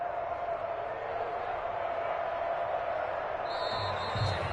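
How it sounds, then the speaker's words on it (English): Home crowd in an American football video game on PS4 applauding and roaring as a steady, dense wash of stadium noise, with a few faint brighter sounds near the end. "And the home crowd applauding."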